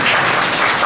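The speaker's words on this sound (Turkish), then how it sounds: "Hadi bakalım, alkışlayalım." Children applaud together in a short, loud burst of dense clapping that fills the room without a break.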